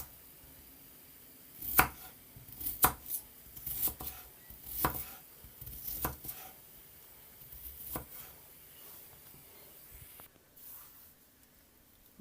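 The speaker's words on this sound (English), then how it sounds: "Now I'm gonna cut it up." Knife chopping Irish potato and sweet pepper on a board, a string of sharp, irregular thwacks spaced a second or so apart, fairly close, with quiet pauses between and no talking.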